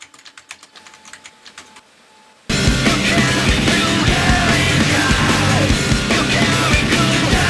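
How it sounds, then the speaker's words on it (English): Rapid clicking of fingers typing on a computer keyboard for about two seconds, fairly close, before a sudden burst of loud, dense music and noise drowns everything out. "Keep typing."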